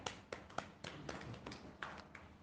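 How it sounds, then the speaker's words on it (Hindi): A woman claps her hands at an Arya Samaj gathering, a quiet, faint run of separate sharp claps and taps spaced irregularly, with no speech. "मैं फिर से पुनः आपके लिए एक ताली बजाऊंगी"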